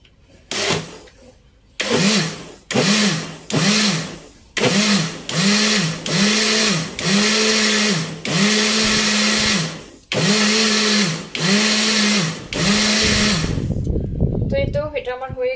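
A kitchen blender whirring through juice for Ramadan, running in a long series of loud, close pulsed bursts with brief pauses between them, then stopping near the end.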